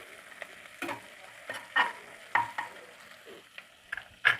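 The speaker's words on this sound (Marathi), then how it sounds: "व्यवस्थित फ्राय करून घ्यायची कोथिंबीर" Coriander leaves fry in a pot for mutton aalni rice, a steady soft sizzle broken by several distinct scraping stirs of a spoon against the pot, each stroke standing out briefly above the hiss, close by and alone.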